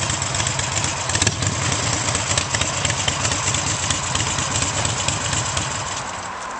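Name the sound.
motorcycle engine idling with a broken exhaust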